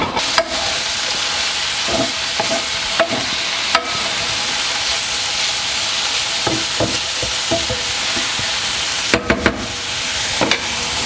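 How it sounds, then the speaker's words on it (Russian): Mushrooms sizzle steadily in a preheated pan, later joined by onion, a constant frying hiss broken by occasional scrapes and clicks of stirring. "Начинаем обжаривать грибы с луком. В разогретую сковородку высыпаем грибы."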